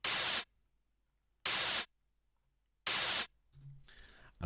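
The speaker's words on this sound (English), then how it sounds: "which is our white noise sound." Three short bursts of a white noise drum sample hiss, evenly spaced and cut off sharply, each followed by silence; a faint murmur follows at the end.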